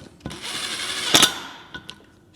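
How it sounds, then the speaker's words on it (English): A power drill driving bolts during engine assembly whirs steadily for about a second, rises into a sharp burst, then tapers off with a few short clicks and taps afterward. "Put them in with the drill first."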